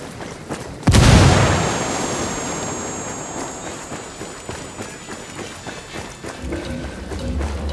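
A frag grenade blast in the tactical shooter Ghost Recon Wildlands: one sudden heavy boom followed by a long, fading rumble and debris wash, with no talking.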